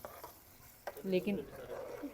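Raw onions frying in hot oil in a pan over a mud-house cooking fire, a soft sizzle with stirring scrapes, quiet and close.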